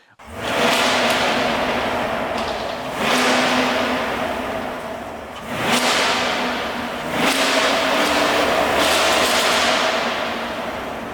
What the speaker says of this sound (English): That is absolutely dirt cheap for a V8 naturally aspirated that sounds as good as this.